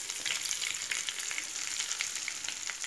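Green chillies and curry leaves fry in hot oil for a dates pickle, producing a soft, continuous hiss with scattered light crackles and pops, fairly quiet and without speech.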